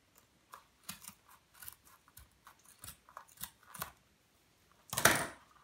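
Carpet being cut to cover a cat scratching post, heard as a series of soft, close snips, followed by one louder, longer rasping cut near the end.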